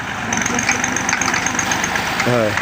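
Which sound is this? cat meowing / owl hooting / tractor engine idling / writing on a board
tractor engine idling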